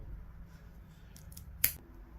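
A single sharp snip cuts paracord for a knife lanyard, heard close and brief after a few faint rustles in a quiet room.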